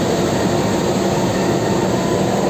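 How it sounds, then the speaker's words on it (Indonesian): KA Cikuray passenger train hauled by a CC 206 diesel locomotive, heard as a steady loud rumble and rolling roar from inside the carriage, continuous and unbroken with no talk. "Lokomotif dinas kereta api Cikuray hari ini adalah CC 206 13"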